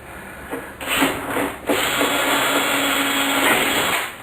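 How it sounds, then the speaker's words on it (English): A power drill whirs loudly and steadily after a couple of short bursts, grinding continuously through a van door card for a speaker pocket until it winds down at the end. "so we're going to drill through this end"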